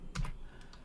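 Quick keystrokes on a computer keyboard while entering an nmap command, a brief cluster of close, soft clicks and taps with a short pause between them, quiet and without speech.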